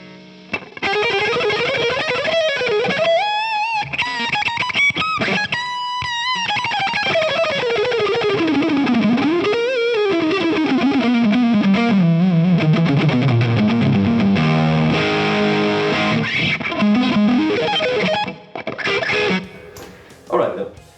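Heavily distorted electric guitar tone from a Marshall amp run into a loadbox at bedroom level, playing fast neoclassical lead runs and sustained bent notes, loud and continuous, with a brief gap near the end.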